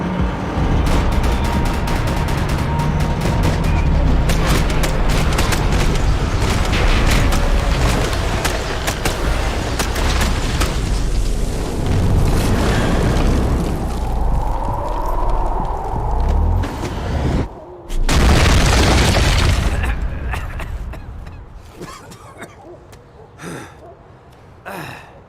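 Gunfire and explosions from the video game Max Payne 3, a dense loud barrage that runs for most of the stretch, with a sharp break, one more heavy burst, then fading scattered shots.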